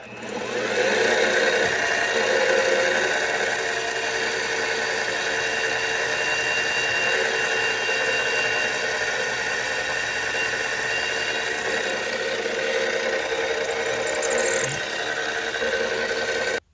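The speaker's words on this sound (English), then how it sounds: "I'm on to number 16 drill bit, because this will be tapped 1/4 32. We're just going to drill that out." A mill drives a number 16 drill bit into a small diesel model airplane engine part, a steady high whining motor hum with a constant tonal drone that holds evenly for the whole stretch and cuts off abruptly at the end.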